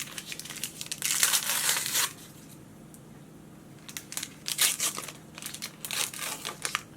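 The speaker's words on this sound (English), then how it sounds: "So I'm opening it with the Q-tip end, the cotton bit at the bottom." Close crinkling and tearing of a COVID-19 home test swab packet being peeled open, in two bursts of plastic rustling separated by a quiet pause.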